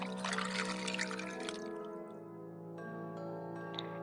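Water being drawn from a well in the Alice Mare video game, a short pouring and trickling splash over steady game music, with a few small drips near the end.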